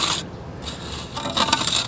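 A float scrapes across leveling sand on a concrete block while a fire pit is being built, two short gritty rasping strokes separated by a brief pause, close and fairly loud.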